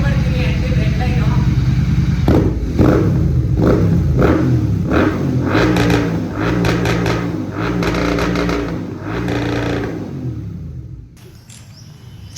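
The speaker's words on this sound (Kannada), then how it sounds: "ಇವಾಗ ರೇವ್ ಮಾಡ್ತೀನಿ. And red line" A GT's engine and exhaust revved hard toward the redline: a loud, close series of rising rev blips with a rasping, harmonic exhaust note, easing back between pulls before dropping toward idle.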